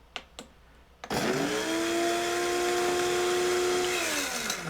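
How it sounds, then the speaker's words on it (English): A couple of faint clicks, then the grinder of a BLACK+DECKER 12-Cup Mill+Brew coffee maker whirs to life grinding beans, a loud, steady high-pitched motor drone that holds, dipping slightly in pitch near the end. "I'm going to stop the grinder."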